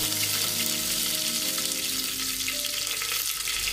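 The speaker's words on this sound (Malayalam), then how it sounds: "വെളിച്ചെണ്ണ നല്ലവണ്ണം ചൂടായി വന്നതിന് ശേഷം അതിലേക്ക് നിങ്ങൾ കറിവേപ്പിലിടുക." Curry leaves crackle and sizzle in hot coconut oil for a beef varattiyathu, a dense, continuous close frying hiss with scattered pops and no voices.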